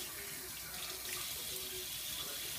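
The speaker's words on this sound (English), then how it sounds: "wash out the conditioner with warm water" Warm water runs from the tap into a spacious sink in a steady, even rush, fairly quiet and close, with no voices.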